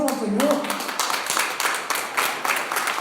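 Church congregation clapping in steady, fairly loud bursts of hands, with a voice speaking briefly at the start and crowd noise underneath.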